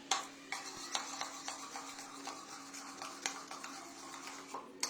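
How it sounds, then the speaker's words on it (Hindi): Chili flakes being stirred into a small homemade mixture with a utensil, giving faint, quiet scraping strokes in an uneven rhythm against a steady low hum, with no voices. "थोड़े से मिक्सचर, थोड़ा सा चिली फ्लेक्स ऐड करूंगी और मिक्स करूंगी।"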